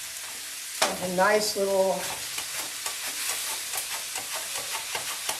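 Garlic sizzling in a hot stir-fry pan for sweet chili mango chicken, a steady close hiss with crackling pops throughout, while a person speaks briefly over it.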